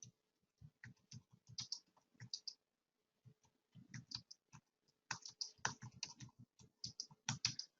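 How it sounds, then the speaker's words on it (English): Rapid clattering keystrokes on a computer keyboard come in bursts with a brief pause midway, close and clear, with no voices. "I can just click and start typing."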